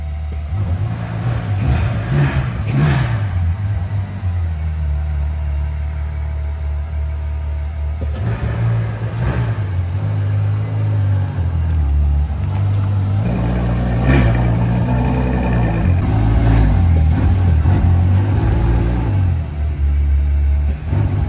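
Ferrari tuned by Mansory with a 775 hp engine, revving loudly and close with a deep resonant drone, rising and falling in repeated swells over about twenty seconds.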